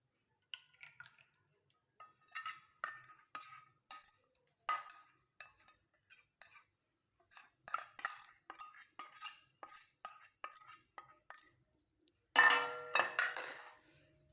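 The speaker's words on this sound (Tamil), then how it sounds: "இரும்பு கடாய் எடுத்துக்கோங்க இப்போ நம்ம எடுத்து வச்சுருக்கிறத எல்லாத்தையும் இதில் அப்படியே சேர்த்துக்கலாம்" Ingredients are added into an iron kadai for a curry-leaf hair dye, a string of small metallic clinks and taps of a spoon against the pan, close and sparse, with a busier scrape near the end and no talk.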